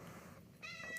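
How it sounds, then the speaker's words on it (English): A cat meows once, short and fairly faint, in a quiet indoor room with no talking. "Sorry about the cat."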